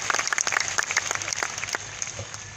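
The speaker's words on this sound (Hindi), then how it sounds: "शायद तो आप ताली बजा रहे दोस्तों" Audience clapping at a village motivational speech for a trading company's anniversary event, a steady patter of hand claps from a modest crowd, fairly close and with no talk over it.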